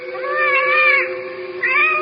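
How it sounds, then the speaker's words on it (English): A cat's meow as a radio drama sound effect, a drawn-out, close, loud tonal cry that dips, then rises again into a second short meow. "She's only a cat."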